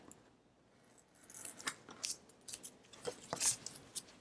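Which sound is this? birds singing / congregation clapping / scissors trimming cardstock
scissors trimming cardstock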